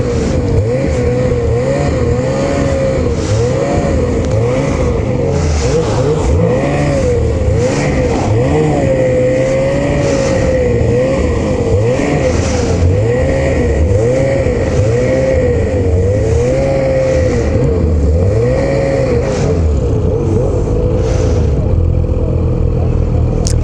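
A 2021 Ski-Doo XRS snowmobile engine runs loud and close, its revs rising and falling in repeated swells throughout, with no voices over it.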